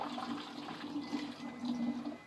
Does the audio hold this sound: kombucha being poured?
yes